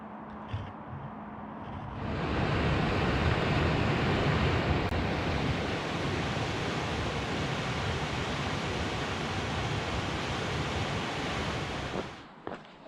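River rushing through a small rocky gorge on a Scottish hillwalking trail near Killiecrankie, a steady broad roar of flowing water that swells in after a couple of seconds and holds loud and continuous, with no voices.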